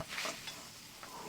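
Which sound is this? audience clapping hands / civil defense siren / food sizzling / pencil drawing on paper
food sizzling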